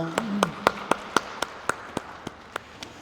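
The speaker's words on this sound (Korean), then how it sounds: "박수 올리겠습니다." A congregation at a Korean church's Sunday service in Berlin claps in slow unison, about a dozen evenly spaced sharp claps that gradually weaken, with a brief voice near the start.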